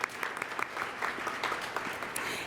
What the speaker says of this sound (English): let's clap for her too.